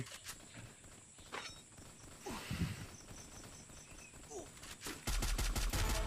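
Gunfire in a Free Fire video game fight: scattered shots and bursts over a busy game soundscape, ending in a loud, sustained volley of rapid fire.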